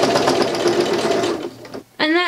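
Sewing machine stitching a fabric syringe driver bag, a loud close continuous whirring run that slows and stops briefly before restarting, with a voice talking over it.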